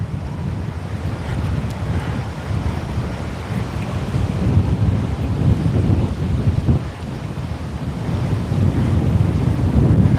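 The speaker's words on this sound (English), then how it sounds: "See how windy it is." Steady wind buffets the microphone with a low, rushing roar near palm trees in Waikiki, Hawaii, growing stronger toward the end, with no voices.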